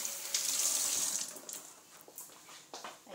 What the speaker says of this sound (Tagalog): Tapos, hugasan natin yung sili.